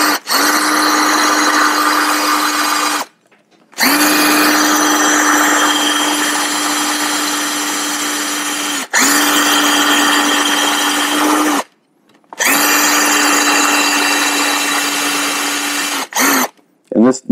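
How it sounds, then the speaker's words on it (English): A power drill bores through resin fiberglass on a surfboard in loud, steady high-pitched bursts, four long runs of several seconds each separated by brief silences, with a couple of short final blips. "this material right here, just like this resin fiberglass, will tear up your drill bits"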